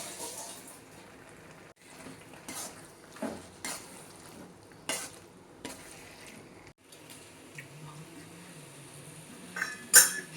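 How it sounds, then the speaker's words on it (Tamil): Chicken is stirred in a pan with field beans for a gravy, a faint low sizzle under repeated clinks, knocks and scrapes of a spoon against the metal, irregular and close, with one sharp clank near the end. "சிக்கனை உள்ளே போட்டு நல்லா வதக்கிக்கணும்"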